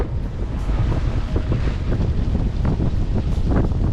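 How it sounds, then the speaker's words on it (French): Heavy wind buffets the microphone throughout, a constant loud rumbling roar with gusty swells and no clear voices. "on a le vent en pleine poire et on va là-bas"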